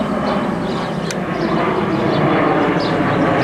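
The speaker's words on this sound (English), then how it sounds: "where's that airplane?" An airplane passes overhead as a steady, loud broadband roar that holds evenly for the whole stretch, with no clear rise or fade.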